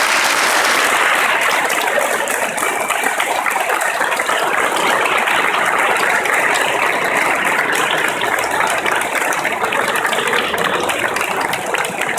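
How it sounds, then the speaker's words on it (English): Graduation ceremony audience at Lund University gives a long, sustained round of dense clapping, steady and loud throughout with no voices over it. "give you a big round of applause"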